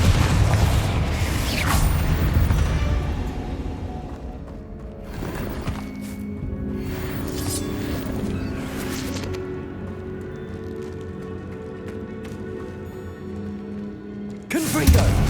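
The Confringo blast spell going off in Hogwarts Legacy: a heavy booming burst at the start, then lighter pops and thuds and a final boom at the end, while a voice calls out the spell name.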